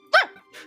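A person imitates a dog's yelp with a single sharp, high yip followed by a softer breathy tail, close and alone over a faint steady hum.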